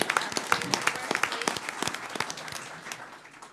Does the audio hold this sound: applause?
yes